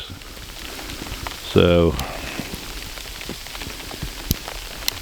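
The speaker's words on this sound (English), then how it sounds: "getting compacted down a little bit now by the sleet and ice" Sleet and ice pellets patter steadily on about seven inches of snow during a late January snowstorm, a soft, close ticking with scattered sharper clicks and a brief spoken word.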